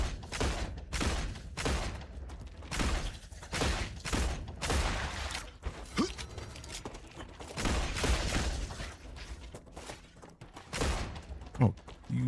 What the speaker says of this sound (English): they're still shooting at shit.